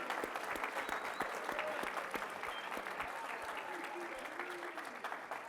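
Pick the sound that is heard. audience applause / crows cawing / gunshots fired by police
audience applause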